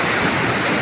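Flood water from the mountains in Laos rushes past, a loud, dense, continuous roar of torrential flow recorded up close.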